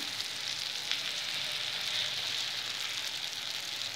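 A roti cooks on one side in a frying pan, producing a soft, even sizzle and faint crackle that stay steady and quiet up close, with no talking.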